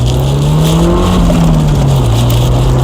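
MG F sports car driving downhill and accelerating, its engine a loud, steady drone that rises and falls slightly in pitch, heard close from inside the cabin with strong road and wind noise.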